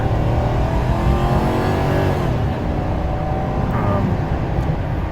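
A 2006 Ford Crown Victoria Police Interceptor pulls hard under acceleration, its engine note climbing loudly and continuously with rising pitch, heard close from inside the car.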